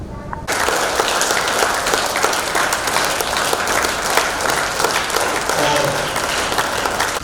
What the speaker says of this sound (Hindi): अपने लिए ताली बजाएं खड़े बैठकर पहले.